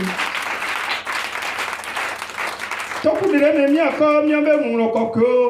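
A church congregation at a Friday evening service claps loudly and steadily for about three seconds, then the applause gives way to sustained music and voices.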